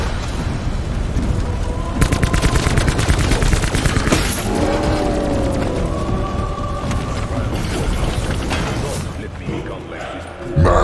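Sustained rapid gunfire from a shooter video game, dense bursts and booms rattling on for several seconds at high volume, fading briefly near the end.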